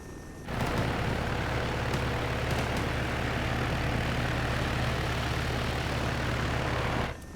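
Fixed-wing aircraft engine in the Arma 3 video game during a fast landing approach, a loud steady droning roar that starts abruptly, holds for several seconds and then cuts off, with no talking.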